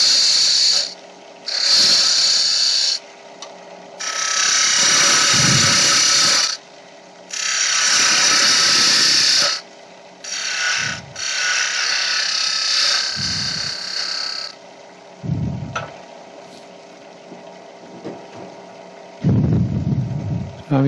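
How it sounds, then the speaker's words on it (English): An Ashley Isles 6mm beading chisel cutting a small wooden keyring on a wood lathe, rocked from side to side in repeated loud scraping bursts of a few seconds each, separated by pauses filled with the lathe's steady hum. "I'm using a beading chisel here, Ashley Isles, 6mm I think, rocking it from side to side"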